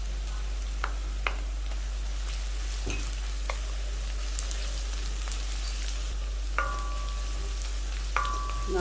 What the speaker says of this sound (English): now this has to fry well.